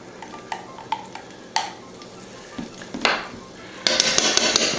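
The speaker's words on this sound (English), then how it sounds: "I'm going to put a couple teaspoons of garlic in here" Garlic spooned into a pot of curry, then stirred: several sharp clinks of a spoon against the pan, a louder scrape, and a burst of bright sizzling toward the end, close and clear without talk.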